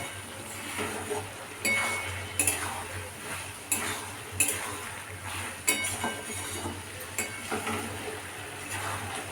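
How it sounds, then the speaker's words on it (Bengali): A metal spatula stirs a pumpkin and potato curry in a pan, making faint, repeated scraping clinks over a low, steady background hum. "এবার এটা একটু খুন্তি দিয়ে ঘেটে দিচ্ছি।"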